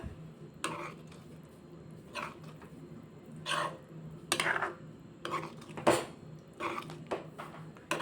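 Vegetable Manchurian gravy stirred together in a pan, with irregular scraping and clinking bursts of a spoon against the metal, close up and moderately loud over a quiet background.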